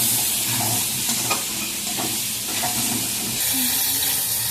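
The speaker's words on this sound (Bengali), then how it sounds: "এবার আমি এটাকে ভালো করে একটু ভাজবো" Potato and pointed gourd pieces seasoned with turmeric and salt frying in hot oil, a steady loud sizzle and hiss with occasional stirring scrapes throughout, no voices.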